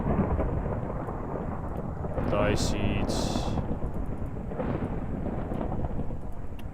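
Lightning thunder in the Minecraft game rumbles loud and low beneath steady rain noise, swelling midway while a player keeps talking over it.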